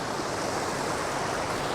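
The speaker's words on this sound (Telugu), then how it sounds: "సో ఇప్పుడు మీరు చూస్తుంది ఫైనల్ వ్యూ ఆఫ్ ఎత్తిపోతల వాటర్ ఫాల్స్" Ethipothala waterfall near Hyderabad gives off a steady, broad rush of falling water, fairly soft and distant, unbroken across the short stretch.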